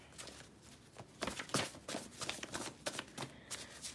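Cards being shuffled for divination readings, a rapid papery riffling in short bursts, fairly close and moderately loud, with no talking over it.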